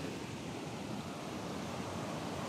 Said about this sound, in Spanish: ahí va haciendo ya burbuja el agua para encañonarse a caer a esto que es la cascada del chorro ahí abajo